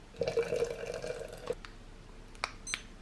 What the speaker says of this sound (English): after those 30 seconds you fill it up with the remaining water, stir it again